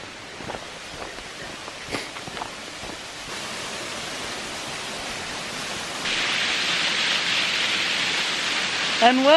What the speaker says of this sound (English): This is just a tiny waterfall on the way. It's called Silver Falls.